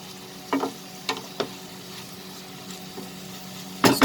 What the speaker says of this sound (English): now over medium flame I'm going to saute this for 3 minutes